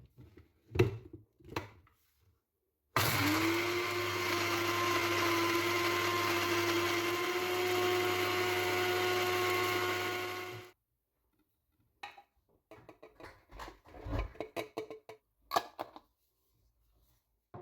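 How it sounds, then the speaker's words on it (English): A blender whirs steadily for about eight seconds, grinding dried courgette crisps into powder; it starts abruptly and stops cleanly, with quiet clattering and handling sounds before and after. "I'm gonna blitz them up. I'm gonna turn them into a powder"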